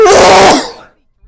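One loud, close sneeze bursts out, then a short silence.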